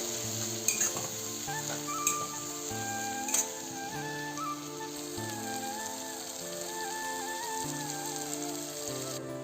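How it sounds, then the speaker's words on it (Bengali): Spices sizzle and are stirred in a frying pan for a Bengali-style soyabean kosha curry, a steady soft crackle with occasional scraping, under continuous background music. "এই মশলাগুলোকে ভালো করে নাড়াচাড়া করে নেবো"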